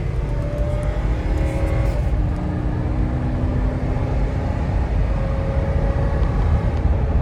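Steady engine drone from a 2005 Ford Explorer XLT V8 with high mileage, accelerating at part throttle on a cold test drive, heard from inside the cabin as a continuous low rumble with no speech.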